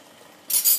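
A metal utensil scrapes and clinks against a pot while cauliflower tchich is stirred, two short bright bursts after a quiet simmering lead-in.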